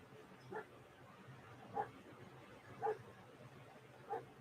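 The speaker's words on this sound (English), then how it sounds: "Sorry about the dog barking." A dog barks faintly in the distance, four single barks spaced about a second apart over a quiet background.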